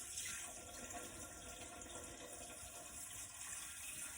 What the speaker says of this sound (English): what I have here is 4 cups of chicken broth. We're gonna put that in here.